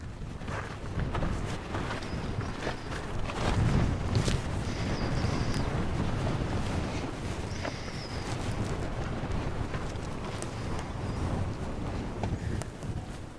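Wind gusts across an abandoned mining camp in the Nevada desert, a continuous rough rumble buffeting close by with a few faint chirps and taps over it.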